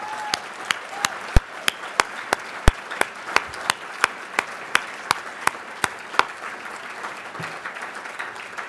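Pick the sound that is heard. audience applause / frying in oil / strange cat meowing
audience applause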